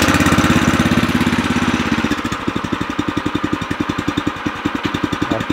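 An O'Mac MC700 motor tiller engine starts with a steady rough drone, then drops after about two seconds into a loud, rhythmic idle with rapid regular pulsing thumps.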